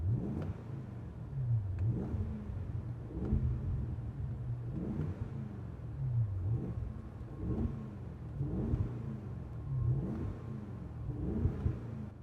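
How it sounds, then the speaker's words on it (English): A Brabus Range Rover with a 600 hp V8 and added Brabus exhaust revs in a steady series of throaty pulses, each rising and falling about every second and a half, close and loud. "V8 here, Brabus additional exhaust mounted."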